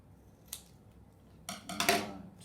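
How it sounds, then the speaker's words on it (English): Scissors snip through paper twice in quick succession, a soft crisp cut followed a second later by a longer, louder crunching slice, close by with no talk. "I'm going to cut these in half again"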